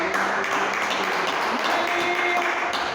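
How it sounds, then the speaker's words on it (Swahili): A church congregation gives sustained loud applause, dense continuous clapping throughout. "Tumupe Bwana makofi mazito"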